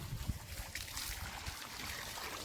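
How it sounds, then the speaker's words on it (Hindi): Water trickles and splashes faintly as a container is filled outdoors at a kabaddi practice ground, a soft continuous pour without talk. "रोहित भाई आ चुका है जो कि पानी भर रहा है"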